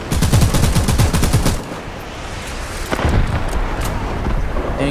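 A 14.5mm machine gun fires in the War Thunder tank game, loud rapid bursts of shots followed by a short pause, then more heavy gunfire with rumbling impacts.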